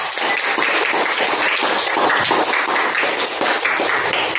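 A classroom of students applauds together, dense steady clapping at close range that carries on throughout without pause.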